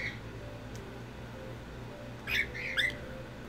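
A pet bird gives two short, bright chirps close by, rising above a steady low hum of room noise and game audio.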